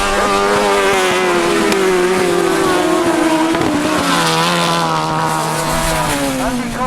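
1000cc sidecar racing outfits roar around a grass track in a race final, their engines loud and continuous, with rising and falling pitch as machines pass and accelerate, and a commentator's voice over the noise.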